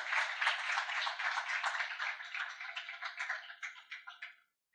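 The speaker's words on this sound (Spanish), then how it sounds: "Vamos a recibir un aplauso al Señor." A church congregation claps together in a thin, bright patter of applause that holds steady and then thins out and stops.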